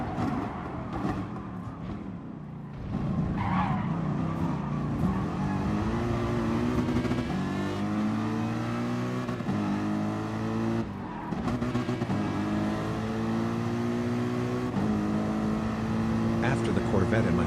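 Race cars in Gran Turismo Sport, including a Ford GT and a Corvette, roar at speed with rising and falling engine tones, with a rough burst of braking and contact partway through under steady speech.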